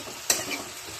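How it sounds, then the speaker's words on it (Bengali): Onion stalks and spices fry in a pan, with a short scraping stir and a soft sizzle over about a second. "এখন দেখো খুলে ভাজা ভাজা মতন করবো"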